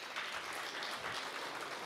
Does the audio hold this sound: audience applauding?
yes